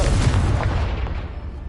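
Confringo blasting spell exploding in the video game Hogwarts Legacy, a loud deep boom with a rumbling low end that slowly fades away.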